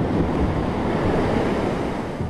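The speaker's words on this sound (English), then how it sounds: "a normally bustling strip of beach was swallowed up by the churning water" Huge seas and churning surf swamping a city beach foreshore, a loud, continuous roar of breaking waves mixed with gusty wind buffeting close by.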